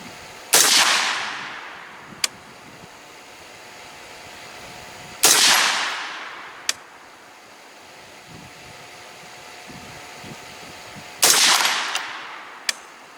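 An Aero Precision rifle fires Fiocchi ammunition at an outdoor shooting range: three loud, sharp shots spaced several seconds apart, each with a long echoing decay, and a faint click follows each one.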